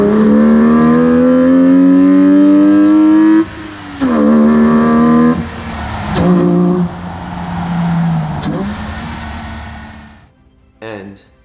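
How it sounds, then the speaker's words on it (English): A modified 2005 Lexus IS300 with a custom stainless catback exhaust revs hard, its induction roar climbing through long pulls, dropping and rising again in several loud bursts before settling toward idle near the end. "this IS makes an incredible induction noise."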